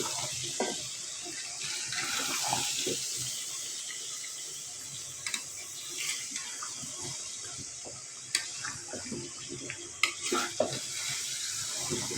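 Olives being stirred in a pan for a sweet-sour date-jaggery pickle, with a soft background hiss and intermittent wet scraping and clinking strokes that grow sharper toward the end.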